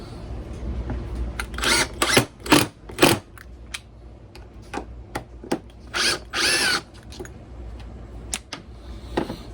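A Makita XDT12 impact driver sinking screws into a tabletop, with several short, close bursts of whirring and hammering separated by pauses and small clicks.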